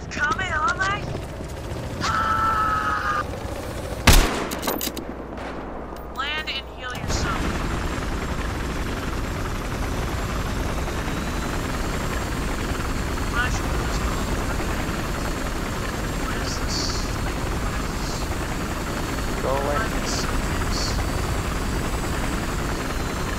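A helicopter in the video game Battlefield Hardline drones with a steady rotor thump through a shootout, with sharp gunfire bursts early on and players talking over it.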